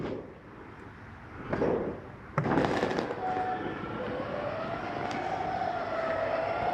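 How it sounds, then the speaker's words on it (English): The electric awning motor on a 2012 Montana 326RLRT RV extends the awning, starting with a mechanical clunk, then whirring with a steady droning hum that keeps running. "I'm gonna go ahead and run this awning out."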